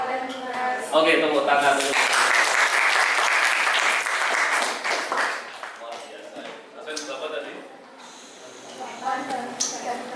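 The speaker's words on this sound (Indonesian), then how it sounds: "Oke, tepuk tangan dulu." Classroom applause from a group of students, loud sustained clapping for several seconds that tapers off, with voices mixed in over it.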